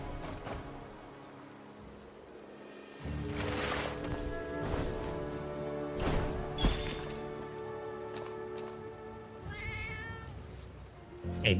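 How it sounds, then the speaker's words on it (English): A cat meows several times inside the video game Where Winds Meet, with drawn-out, whiny calls rising over steady game music and ambience, fairly close and clear. "Hey, this cat looks different from the other Meow Meow."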